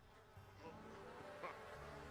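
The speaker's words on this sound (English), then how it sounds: "He is carrying a swarm of bees, is what he's doing." A swarm of bees buzzes in a video game, a steady, faint droning hum of many insects that stays even throughout.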